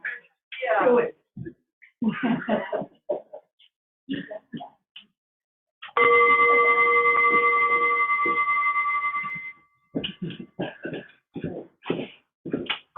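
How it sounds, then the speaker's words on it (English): A single bell is struck to open a meeting, ringing out clearly with a sustained tone that slowly fades over a few seconds, with people speaking before and after it. "I'm going to go ahead and ring the bell and get started."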